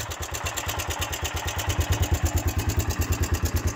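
A motorcycle engine idles with a steady, rhythmic chugging pulse and a light metallic tapping from its valves, the engine short on oil changes, close and fairly loud throughout.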